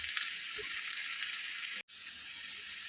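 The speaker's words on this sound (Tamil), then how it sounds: "பிரண்டையோட பச்சை நிறம்லாம் நல்லா மாறி நல்லா வதங்கி வந்திருக்கு" Adamant creeper (pirandai) frying in a pan, giving off a steady, bright, close hiss of sizzling that stops abruptly for a moment and then carries on, with no voices.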